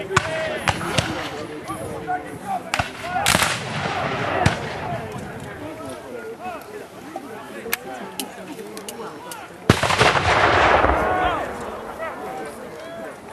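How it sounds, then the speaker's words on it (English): Artillery cannon fire at a Civil War battle re-enactment in Wauconda, Illinois: several loud, sharp booms, including a big blast near the end, over steady crowd murmur and talk. "Confederates with artillery support."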